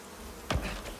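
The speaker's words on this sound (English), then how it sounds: "I got a queen bee!" A queen bee in the survival video game Icarus gives one short, sharp buzz that swells and fades within half a second against quiet background hiss.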